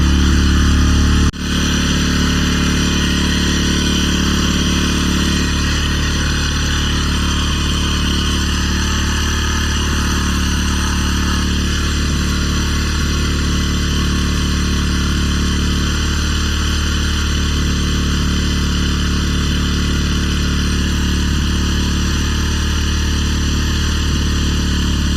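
A Bajaj Pulsar NS200 motorcycle with a carburetor idles steadily once warmed up, a loud, constant engine drone with a faint buzz, unchanging and close throughout after one brief click near the start.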